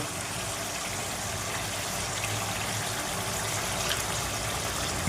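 Water pours continuously into a bowl being rinsed in a home kitchen, a steady, close, broadband gush with no pauses.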